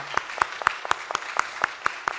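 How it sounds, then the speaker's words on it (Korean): A church congregation claps in slow, steady unison to welcome newly registered members at a Sunday morning service: about nine crisp, evenly spaced claps, clear and moderately loud, with no talking over them. "우리 박수로 환영하겠습니다"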